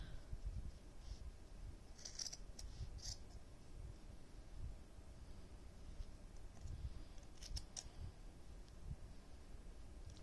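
Scissors snipping open yarn loops on a pom pom for a garland, a few quiet, short crisp snips in two small clusters over a low steady background hum.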